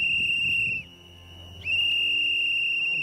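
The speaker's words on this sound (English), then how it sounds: "my god, these fucking whistles," Piercing shrill whistles blown during a police body cam incident, a sustained high tone that breaks off briefly and then resumes, loud and close with no talking.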